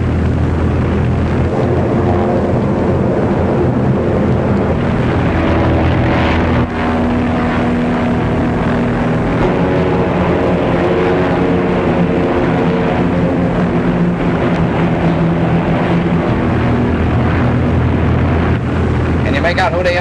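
Propeller drone of Navy aircraft flying overhead, a steady, loud, continuous engine hum with rising harmonics lasting throughout, with people talking over it.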